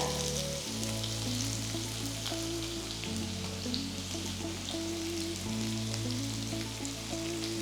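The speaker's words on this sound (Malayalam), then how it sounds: "ഇതെല്ലാം കൂടെ നന്നായിട്ട് വഴറ്റിയെടുക്കുക" Sliced onion, ginger, green chili and garlic sauté in a hot pan, giving a continuous close crackling sizzle over a steady low hum from the cooking setup.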